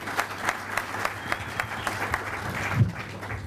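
An audience claps at an Ethiopian stand-up comedy show, with a few sharp individual claps standing out over a softer crowd wash that holds steady and rises slightly near the end.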